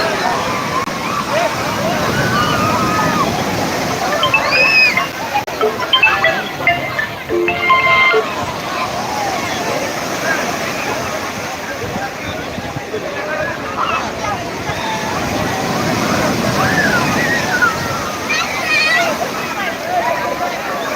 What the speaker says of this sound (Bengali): আবারও একটা আসছে আবারও একটা আসছে বিশাল বড় ঢেউ